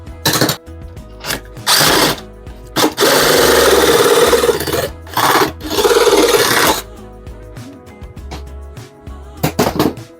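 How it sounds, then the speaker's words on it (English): A jigsaw cuts through material in several rasping bursts of varying length, loud and close, with short quiet gaps between the cuts. "force the jigsaw around like that"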